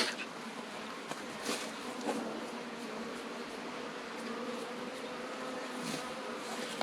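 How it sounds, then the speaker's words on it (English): Steady honeybee buzzing fills the air, a dense hum of many bees close by at a hive, with a few louder passes rising and fading as bees are brushed off. "But the bees I'm brushing off will fly back to the hive."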